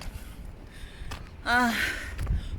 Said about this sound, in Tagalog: Kunting lakad lang. Hinihingal na ako.